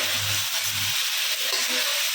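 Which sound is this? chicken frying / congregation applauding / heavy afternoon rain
chicken frying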